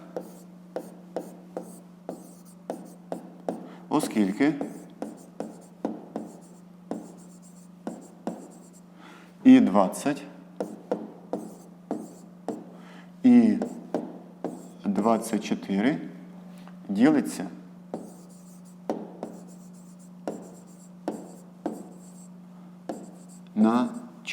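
Pen writing on paper while working fifth-grade math exercises: a steady run of short, close scratchy strokes in irregular bursts, with brief voice sounds mixed in.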